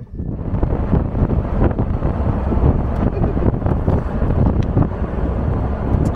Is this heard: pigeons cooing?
no